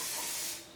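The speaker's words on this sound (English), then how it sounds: "I might spray the cup with some silicone spray" Silicone spray shoots from an aerosol can into a cup for resin ring pour art, a single short airy hiss that fades quickly, close and fairly quiet.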